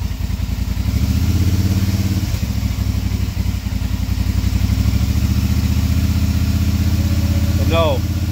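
A 2020 Polaris Sportsman 850 ATV engine, parked and suspected of a failing water pump, idles and is held at a steady higher rev with a fast even throb, loud and close, ending with a short high chirp.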